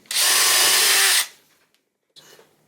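Power drill boring a hole through wood, a loud steady whine for about a second that cuts off, then a brief second burst of motor noise.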